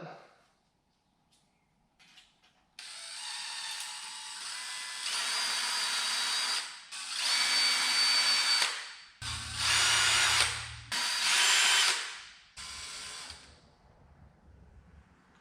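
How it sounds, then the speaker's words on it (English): A power drill whirs in several bursts of a few seconds each, drilling holes in a 4L60 transmission part, separated by short pauses, close and loud, with faint clicks between runs. "drill the size hole where it tells you to drill it."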